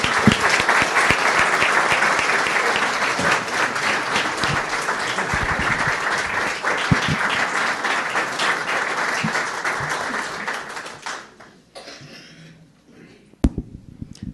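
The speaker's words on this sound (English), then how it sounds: "May we please have another round of applause so that Betty can see how pleased we are for her" A council chamber audience at an annual meeting gives Betty another round of applause, a full, sustained clapping that runs about eleven seconds before tapering off, followed by a few faint scattered sounds.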